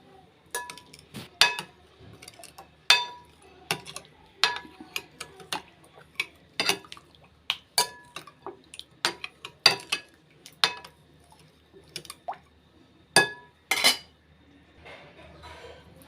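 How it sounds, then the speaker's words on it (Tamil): A spoon mixes kambu koozh with salt and chopped onions in a vessel, making irregular sharp clinks and taps against the sides, close and clear, spaced through the whole stretch with no voices. "கம்பங்கூழ் வந்து நல்லா மிக்ஸ் பண்ணியாச்சுங்க"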